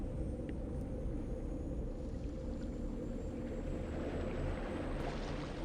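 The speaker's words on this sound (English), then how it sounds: "Oh, we got some loud water." Water churns loudly in a No Man's Sky planet scene, a constant low rumble and wash that holds steady and even throughout with no voices.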